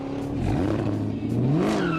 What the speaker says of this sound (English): a heavy metal soundtrack of supercharger shredding and blaring exhaust rhythm